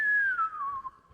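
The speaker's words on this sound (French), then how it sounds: "est-ce qu'on m'a entendu siffler?" A person whistles one clear sustained note that slides gradually downward in pitch, close and alone against near silence.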